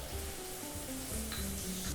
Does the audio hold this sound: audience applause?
no